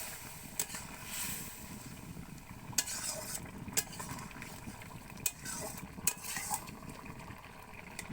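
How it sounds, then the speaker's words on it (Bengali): Cumin paste and coriander powder stirred into a pan for a light Bengali fish curry with potato, ridge gourd, bottle gourd stems and eggplant, a soft low sizzle broken by several sharp scrapes and clinks of a spoon against metal. "এরপর দেবো জিরে বাটা আর ধনে গুঁড়ো দিয়ে একসাথে মিশিয়ে নেব।"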